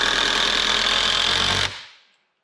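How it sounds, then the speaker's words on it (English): A power drill drives screws into a treated wooden post, one continuous close buzzing whine that stops abruptly and trails off into silence. "I'm screwing it right to the post"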